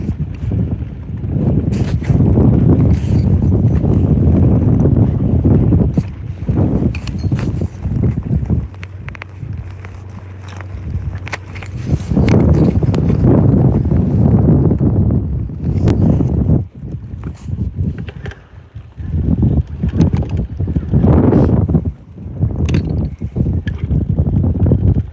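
Gusting wind buffets the microphone out on the water during bass fishing from a boat, loud rumbling bursts that come and go in waves with short calmer gaps between.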